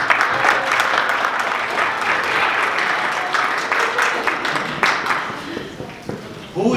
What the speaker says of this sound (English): So there is a round of applause for Josiah as well.